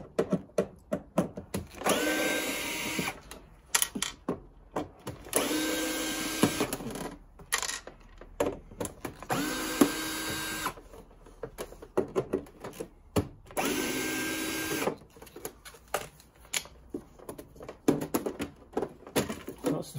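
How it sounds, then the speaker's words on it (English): Cordless drill backing Phillips screws out of the side cover on an AJS Modena 125 motorcycle, several loud whirring bursts of a few seconds each separated by short pauses, close up, with no talking. "I want to use a drill to make it a little bit quicker."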